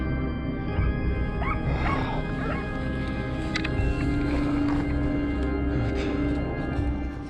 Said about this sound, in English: In the distance, the barking of hunting dogs echoed through the air